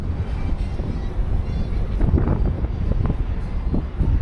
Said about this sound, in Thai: ลมแรงมากเลยครับวันนี้